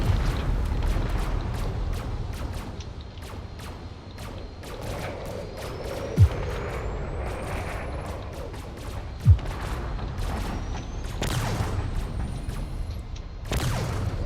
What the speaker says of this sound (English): There's a lot of cannon shots coming forward.